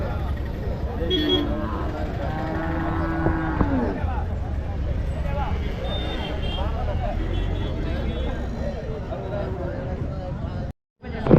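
Cattle moo at the Matrapalli cattle market amid a busy outdoor din of crowd chatter and passing vehicles, with the lowing calls rising over the steady babble while people talk nearby.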